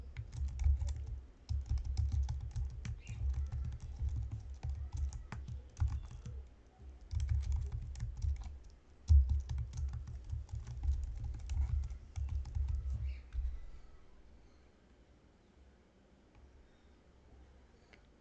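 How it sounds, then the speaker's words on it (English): Typing on a computer keyboard while setting up a Git repository, a steady run of close, quick key clicks in bursts with short pauses, fading to near silence at the end. "Let's type a description."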